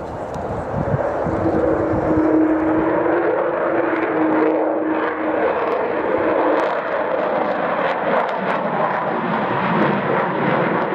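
The Avro Vulcan XH558 jet bomber passes over the airfield at the Royal International Air Tattoo, its engines a loud, rumbling roar with a brief howling tone, sustained throughout the pass.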